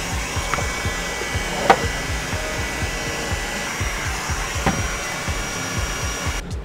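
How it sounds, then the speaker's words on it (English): A heat gun blows with a steady, breathy whoosh while it curls foam armor pieces, holding an even level throughout, with a few faint clicks and light handling knocks and no talk. "Let's go ahead and do a little heat curl before we glue them together."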